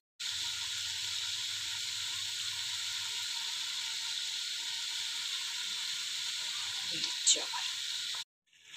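Yogurt goes into hot masala in a pan and sizzles loudly and steadily, a dense close hiss lasting several seconds with a brief clatter near the end before it cuts off.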